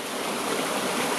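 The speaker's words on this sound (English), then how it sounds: "See, we've got this weir" Water pours over a weir on a flooded river as a steady, dense, full rush that stays loud throughout with no voices.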